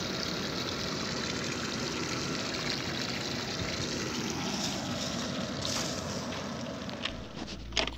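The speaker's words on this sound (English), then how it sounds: "Open the hydrant valves for water supply." Water rushing steadily from opened fire hydrant valves during a fire hose hydrostatic test, a loud continuous broadband roar that holds for several seconds with a few faint knocks near the end.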